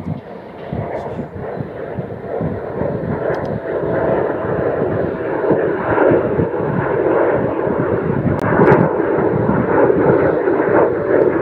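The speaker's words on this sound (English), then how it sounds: "Got a Cessna coming in." A Cessna propeller airplane landing at Nashville International Airport, a steady droning engine rumble that grows gradually louder as it approaches, heard from the ground alone with no talk.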